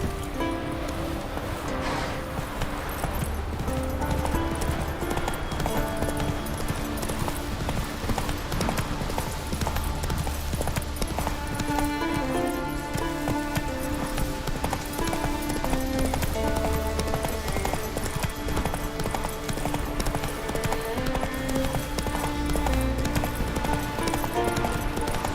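Roach, a horse in The Witcher 3, gallops with steady clip-clop hoofbeats over continuous game music, with faint ambient rustling and no talk.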